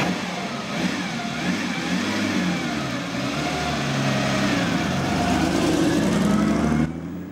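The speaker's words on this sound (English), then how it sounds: "it's time for Terry and I to take it away and have a spin." A car engine revs up and pulls away at a gathering of supercars, a steady mid-pitched roar that rises and holds loud and close for several seconds before cutting off abruptly near the end.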